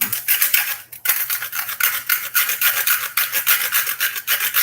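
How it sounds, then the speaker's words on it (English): Cinnamon stick grated by hand against a kitchen grater, a steady run of close, dry rasping strokes in quick rhythm, each scrape bright and gritty, with only brief pauses between passes. "Since it seems I'm out of cinnamon, I'm going to grate some."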